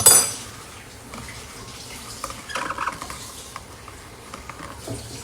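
Blender being rinsed under running tap water in a kitchen sink, with a soft steady water stream, faint patter and occasional clinks of the jug, close and fairly quiet.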